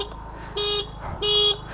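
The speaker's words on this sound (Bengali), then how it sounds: "এটা হচ্ছে হর্ন" A TVS Wego scooter horn gives two short, flat beeps close by over the low idle hum of the engine.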